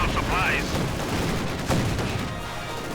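Rattling gunfire and MG42 machine-gun bursts in a World War II strategy game battle, dense crackling shots with a booming impact, mixed under a caster's voice.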